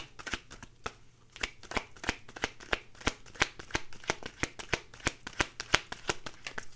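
A deck of reading cards being shuffled by hand, with a quick, steady run of close, crisp riffling snaps and no voices.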